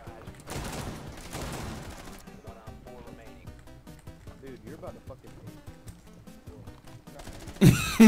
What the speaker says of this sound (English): Someone's shooting out from this corner.